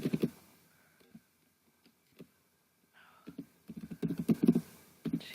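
Keys tap on a computer keyboard in short, uneven bursts, sparse at first and then a quicker cluster of close clicks near the end.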